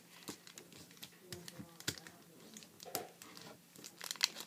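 Paper being creased and folded by hand for an origami nesting bird, soft intermittent crinkles and taps close by, quiet throughout.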